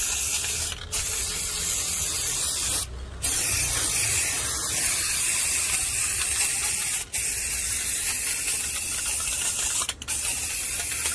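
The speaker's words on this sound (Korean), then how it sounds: "스프레이를 교체하여 꼼꼼하게 덧칠을 해주세요." A spray can paints with a loud, steady hiss that runs almost continuously, broken by a few brief pauses as the nozzle is released.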